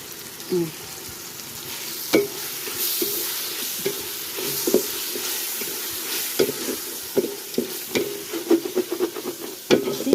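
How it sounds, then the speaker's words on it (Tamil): Yogurt poured into hot oil for a chicken dum biryani crackles and sizzles in a steady hiss, punctuated by sharp spoon scrapes and knocks against the pot that grow busier toward the end; no talking. "இப்போ நான் தயிர் ஊற்றுறேன் ஒரு நூறு கிராம் அளவுக்கு தயிர் ஊற்றுறேன்"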